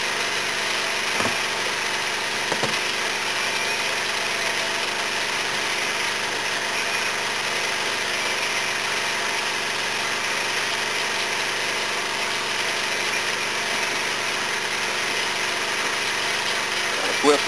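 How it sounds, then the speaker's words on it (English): An electric motor system running on a portable generator hums steadily and evenly throughout, a constant close drone with no change in pitch or level. "show you the system running on a portable generator"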